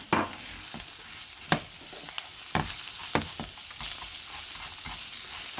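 A whole medium onion, finely chopped, sizzles in butter on a turned-down burner for rice pilaf, with a steady crackle broken by sharp scraping stirs and clicks of a utensil against the pan.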